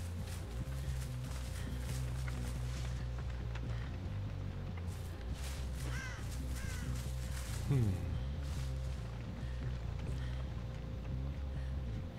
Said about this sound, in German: Da sind die Vögel.